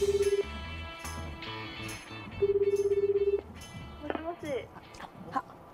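Dialing tones as a Japanese TV variety show places a live phone call: a short burst of DTMF beeps, a pause, then a longer rapid run of key tones, with studio chatter and voices around them.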